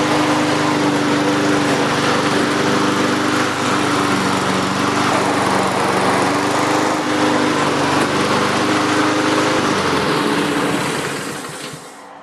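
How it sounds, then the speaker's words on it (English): Honda HRR216 lawnmower engine running steadily at close range, a loud continuous droning hum with a buzzy whine that holds for about eleven seconds before the engine note drops off as it winds down. "Now I'm going to start up the lawnmower"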